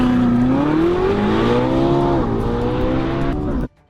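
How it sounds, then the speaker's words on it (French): Ferrari 458 being rebuilt after a crash accelerates hard through a first corner, its engine note rising steadily and staying loud and close for several seconds before cutting off abruptly; no one talks. "Il a passé le premier virage, bonne nouvelle!"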